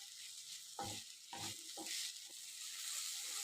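Okra frying in oil with ground masala, a steady bright sizzle spread across the clip, broken by a few soft stirring scrapes in the pan, with no talking.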